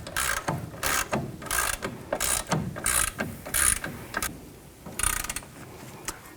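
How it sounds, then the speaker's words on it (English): A hand ratchet clicks in quick, rhythmic bursts while tightening the upper ball joint nut on a 2007-2014 GMC Sierra 3500 HD during a lower control arm replacement, each burst of clicks close and crisp with short gaps between. "Now we'll tighten up the upper ball joint nut."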